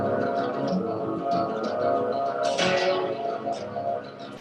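Unchopped music loop from a song, a dense sustained instrumental texture with steady layered tones and a brief bright swell midway, loud and continuous with no voices.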